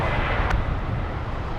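Roaring jet engine noise of an airliner landing on runway 24 right at Los Angeles International Airport, a broad steady rumble heard from a distance, brief and continuous.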